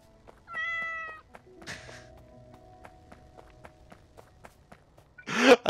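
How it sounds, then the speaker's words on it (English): A cat meows once, close and clear, as a game sound effect in Factorio, followed by soft ticking steps and a burst of noise at the end. "I hope you enjoy that new meow sound, Dagu."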